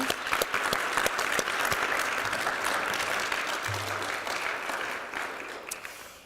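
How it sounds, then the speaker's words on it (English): An audience at an annual meeting applauds, a full and steady wash of clapping heard at moderate distance that gradually fades toward the end, with no talking over it. "So please give a round of applause to our staff for all that they do."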